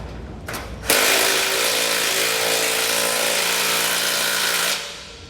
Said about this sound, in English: we're just going to use an 11/16 socket to tighten this down